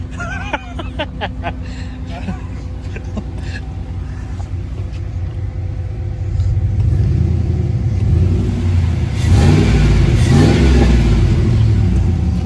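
A truck's swapped-in 5.3 V8 engine idles with a low rumble, then revs up louder and heavier toward the end, a deep throaty roar close by.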